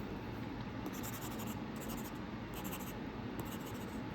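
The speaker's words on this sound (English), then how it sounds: "Can you listen to the sound? It's just as if like how it would look like when you are drawing on a paper." A stylus writes on the screen of a Boox Go 10.3 e-ink tablet, giving soft, papery scratching strokes that come in short repeated bursts, faint and close, with no talking.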